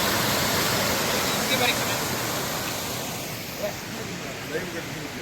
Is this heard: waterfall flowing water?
yes